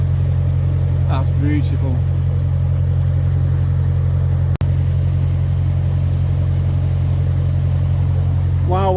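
A classic car with a BMC engine, slightly smoky and with a sticky inlet valve, drives along after a gearbox change, a loud steady mid-pitched engine drone from inside the cabin, with someone speaking briefly over it.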